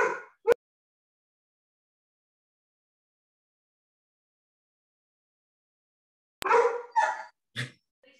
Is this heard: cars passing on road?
no